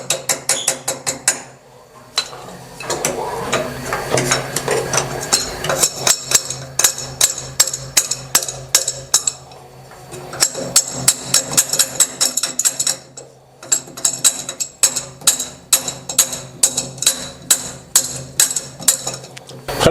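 A ring spanner hammers a rusted washing machine tap with loud, rapid metallic knocks in long rhythmic runs, broken by brief pauses, close up and with no talking.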